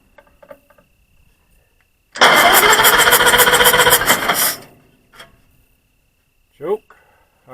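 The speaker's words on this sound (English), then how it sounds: "we're about ready to try to fire off the pony motor" Small gasoline pony start motor on a Caterpillar 112 road grader firing up after a choked pull: a loud, busy burst of cranking and running for about two and a half seconds, then it dies away, leaving faint clicks and a brief knock.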